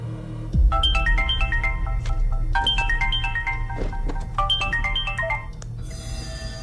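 Melodic phone ringtone playing three repeated phrases of quick descending chimes, clear and fairly loud over a low background hum, with a thud at the start.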